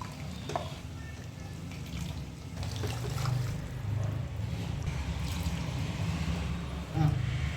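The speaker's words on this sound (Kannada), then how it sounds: "ನಾನು ಸ್ವಲ್ಪ ಇಲ್ಲಿ ಬಿಸಿ ನೀರು ಯೂಸ್ ಮಾಡ್ತಾ ಇದ್ದೀನಿ." Hot water pours into a cooking pot with steady trickling and splashing for several seconds, with faint clinks and low background rumble.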